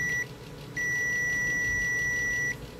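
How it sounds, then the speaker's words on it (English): A multimeter set to continuity beeps across shorted capacitor terminals in a main power supply under repair: two steady electronic tones, a short chirp followed by a longer sustained beep of about two seconds, close and clear. "Set to continuity, beep means a short circuit."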